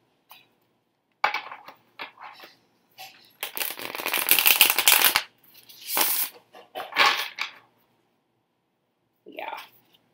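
A tarot deck being shuffled close up, a dense burst of riffling and card rustle lasting about a second mid-clip, with shorter flicks and taps before and after separated by quiet gaps.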